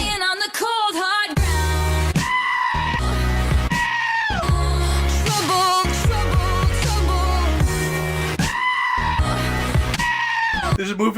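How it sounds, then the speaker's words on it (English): The Screaming Goat meme plays out loud: a goat bleats in repeated piercing, human-like screams, alternating with loud music and other voices in a busy, brash mix. "Like, literally, what the Screaming Goat from, like, 2015?"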